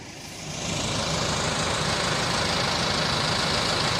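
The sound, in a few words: New Holland T4.95 tractor engine idling while skidding a log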